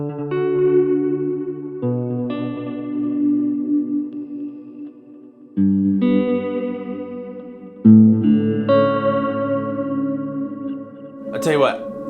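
Guitar tones from a Line 6 POD processor run through delay and reverb: sustained chords ring out in several separate strums with long echoing tails, ending in a rising swirled sweep, loud and close with no talking.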